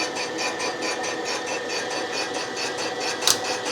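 A cylinder boring machine cuts steadily through the bore of a 1972 Yamaha DT2 250 two-stroke cylinder. It makes a continuous, even whirring hum with a faint regular pulse. Near the end there is one short, sharp click.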